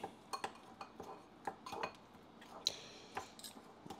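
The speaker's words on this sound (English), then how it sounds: "I'm going to go ahead and take a spork and I'm going to mix it like I do in my own restaurant" A spork scrapes and clinks against a bowl as guacamole with lemon is mixed, giving faint, irregular taps and scrapes repeating close by with no talking.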